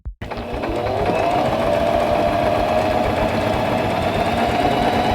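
A Singer mechanical sewing machine runs a line of stitches, with a brief click as it starts and then a steady, fast mechanical whir and rapid needle chatter held for several seconds.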